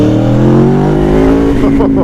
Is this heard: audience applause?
no